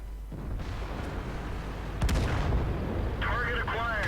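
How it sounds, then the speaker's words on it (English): Tank cannon shot fired from an E50M in World of Tanks on the Abbey map, a sharp loud blast followed by a brief rumbling tail, with a whining game effect near the end and a continuous battle rumble underneath. "Put a shot into the 50B."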